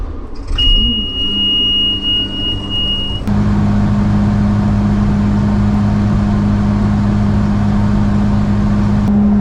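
A combine harvester's engine idles and then settles into a steady, loud drone before a pinto bean harvest in the Red River Valley, with a sharp change partway through as the running note rises and holds.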